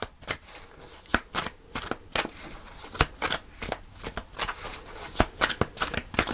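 Tarot cards being shuffled by hand during a reading, a quick run of crisp papery riffles and flicks, close and fairly quiet, with no talking.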